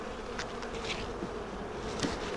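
Honeybees buzzing on a brood comb that holds a band of stored food above the brood, a steady close hum with a few brief louder passes.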